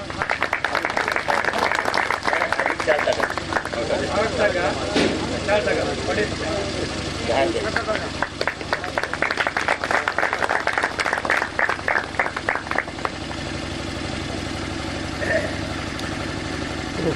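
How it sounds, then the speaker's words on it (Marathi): A crowd claps at an annual village yatra festival at an ashram, with dense, sustained applause and engine-like rumble in the background while voices carry over it. "सर्वांनी जोरात टाळ्या वाजवायच्यात"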